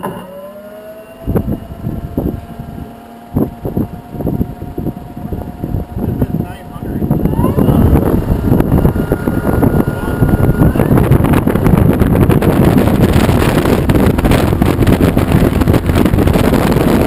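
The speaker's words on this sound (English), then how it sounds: "Pretty windy back here" Heavy wind from a helix propeller buffets the microphone, growing into a constant loud roar after a few seconds of gusty rumbling as the throttle opens, with an engine droning underneath.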